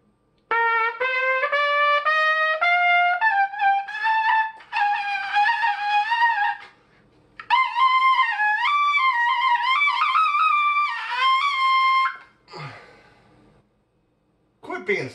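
A trumpet played with a weak embouchure strains at high notes. The short phrases are bright and thin, with wobbly pitch, some notes cracking and sliding, and pauses between them. The horn plays alone at close range.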